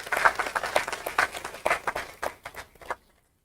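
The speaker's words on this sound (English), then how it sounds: "Can you please give yourselves a round of applause because you did excellent." Audience at a political party public consultation in Port of Spain claps in a burst of applause, a dense patter of hands that thins out and stops after about three seconds, with no talking.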